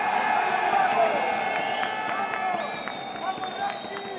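A large crowd at an esports tournament match cheers and shouts together, loud and sustained, with a few whistle-like tones riding above the roar.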